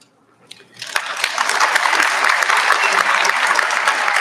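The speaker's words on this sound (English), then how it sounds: "join in a round of applause for the faculty and family members who helped us get here" A graduation audience bursts into applause for faculty and family members at a high school ceremony, building quickly from quiet to a loud, sustained clapping that fills the hall.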